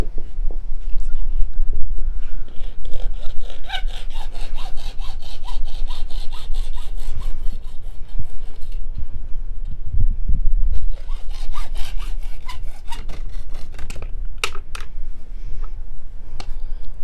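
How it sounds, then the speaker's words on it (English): A regular hacksaw cuts pavers or pipe outdoors at a water feature, with steady, rapid back-and-forth rasping strokes that carry on loud and close almost without pause, one brief break midway. "It's a regular hacksaw that you would use for PVC or pipe."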